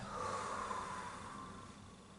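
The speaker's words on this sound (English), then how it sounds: "Deep inhale and exhale forward." Slow, deep breath drawn in and let out during a yoga hip and inner-thigh stretch: a steady, airy rush that swells early and gradually fades, close and alone with no talk.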